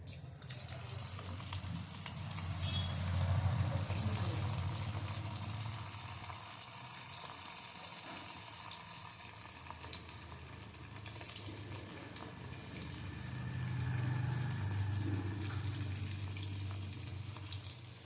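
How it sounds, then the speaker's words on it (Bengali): Dough balls sizzling and frying in hot oil, a steady crackling hiss with soft stirring movements, heard up close without any talk. "এরকম করে আমি বলগুলো বানিয়ে নিয়েছি এবার আমি তেলে একটু ভেজে নিচ্ছি"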